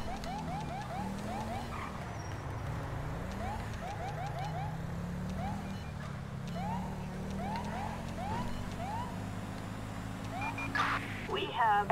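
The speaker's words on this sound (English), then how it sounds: "we'll do lights and sirens just to get over there" A police car siren in the video game GTA V wails in rising and falling sweeps over steady engine and traffic noise, with a few short yelping bursts near the end.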